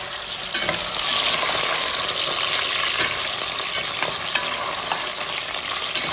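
Meat sautés beside potatoes in a hot pan, a loud, dense sizzle that runs without a break, with light scraping and stirring under it and no voices.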